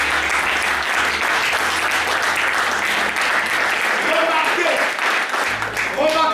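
Congregation at a French-language church sermon applauding and cheering for the Lord, a dense, steady wall of clapping and crowd noise running throughout, with voices rising near the end.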